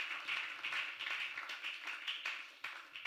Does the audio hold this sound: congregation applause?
yes